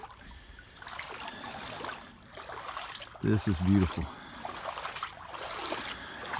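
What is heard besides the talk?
cold stream water trickling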